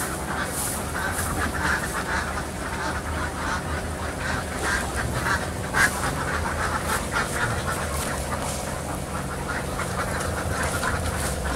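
Laying ducks at a duck farm quack as a dense, continuous flock chorus, steady and fairly loud throughout with overlapping calls and no pauses.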